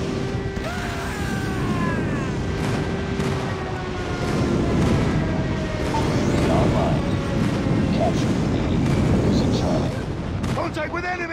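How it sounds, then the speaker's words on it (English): Airstrike explosions in the video game Call of Duty: Mobile rumble in repeated heavy booms and crackling blasts over a continuous low roar of gunfire and battle noise, with game voice callouts mixed in. "Enemy airstrike incoming."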